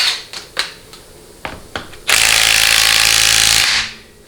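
Hand ratchet turning out 13 mm pump-to-case bolts on a 4L60E transmission during teardown: a few sharp clicks and knocks, then a loud sustained burst of rapid ratcheting for about a second and a half, close by.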